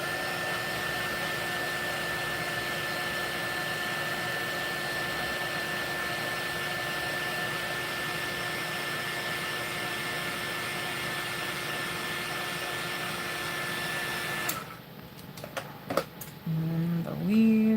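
A heat tool blows steadily over a watercolor craft piece for about fourteen seconds, a loud continuous whir with a faint whine, then cuts off, leaving small handling clicks and rustles.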